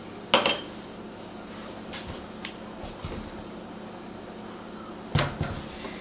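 A utensil scrapes and clanks against a bowl while cheesecake batter with added flour is mixed, two loud knocks at the start and end with softer scraping between, close up.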